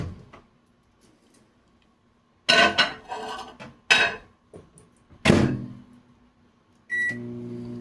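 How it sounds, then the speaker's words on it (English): A microwave oven is worked to heat Brazilian premium corned beef, with sharp clicks and clunks of a door and buttons, then its steady low hum starting at the end. "We're gonna put this in the microwave for about"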